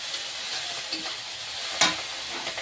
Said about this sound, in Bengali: এই লঙ্কা, এই আদা রসুন বাটা একটু দিয়ে দিচ্ছি।